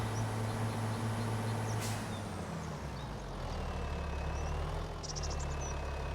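A farm tractor engine idles steadily in a low, throbbing drone throughout, with a brief hiss and some faint higher squeaks, nearby and without talk.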